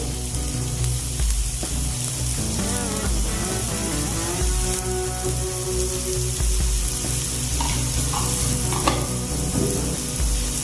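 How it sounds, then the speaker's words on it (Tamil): Onions frying in oil with masala for Punjabi aloo paratha give a steady, close sizzle with stirring scrapes, over a sustained tonal background throughout. "நல்லா வெங்காயம் பாருங்கள் வதங்கி அந்த எண்ணெய் பிரிஞ்சு வருது பாருங்கள்"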